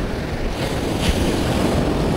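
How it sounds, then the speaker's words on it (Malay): Waves roll onto a surfcasting beach, a loud constant wash of surf with wind buffeting the microphone and a brief swell of breaking water midway. "Ombak berapa ini?"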